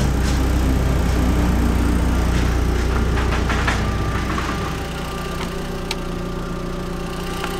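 A long-unused Audi TT engine idles steadily with an even, rumbling hum, loud and close, settling slightly quieter partway through.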